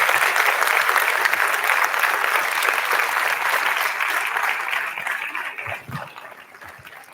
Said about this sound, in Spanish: quiero que lo recibamos con un fuerte aplauso a Andrés Gomberov.